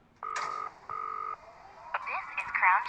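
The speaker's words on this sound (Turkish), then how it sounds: "Telefon çalıyor." Two bursts of a telephone ring sound in a game called The Baby in Yellow, a buzzing trill repeated twice, followed by someone speaking over faint electronic chirps.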